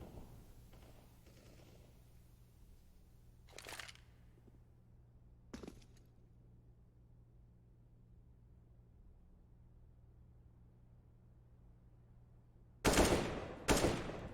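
Gunfire in CS:GO on the Mirage map during a TYLOO vs ViCi match: two faint single taps early, a long quiet stretch, then two loud, close bursts near the end.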